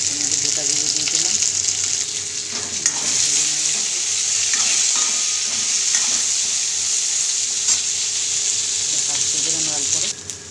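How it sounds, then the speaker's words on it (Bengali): Potato pieces frying in hot oil in a kadai with a bay leaf and whole cumin, a loud continuous sizzle broken by scraping stirs throughout, with no clear talk. "কড়া বসিয়ে তেলটা গরম হয়ে যাওয়ার পরে একটা তেজপাতা দিয়ে আলুটা করে ভেজে নিচ্ছি"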